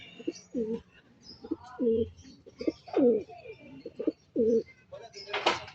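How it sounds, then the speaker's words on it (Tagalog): Pigeons coo repeatedly in soft, rounded bursts at a steady rhythm, fairly close, with faint background chatter and a brief rustling noise at the end. "bali dalawa na yung kalapati ko"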